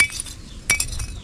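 Lump charcoal clinking as it is poured out, bright glassy chinks and rattles in a short burst with a louder cluster midway, close and alone with no talk.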